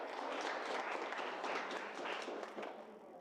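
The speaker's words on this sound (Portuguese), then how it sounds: "Aplaudam por terem vindo aqui" Applause at a mosque visit, a soft, dense patter of many hands clapping together, fairly distant and even, tapering slightly toward the end.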